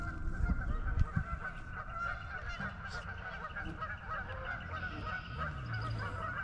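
Several geese honk repeatedly nearby, overlapping calls rising over a steady outdoor background, with scattered louder honks and a few low thumps.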